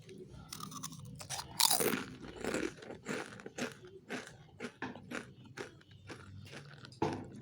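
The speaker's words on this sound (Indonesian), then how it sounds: "tuh garing banget, crispy. Aku mau cobain, rasain dulu teman-teman." Crispy fried sesame rolled wontons are bitten and chewed up close, producing loud, dense crunches that continue steadily as the pieces are eaten.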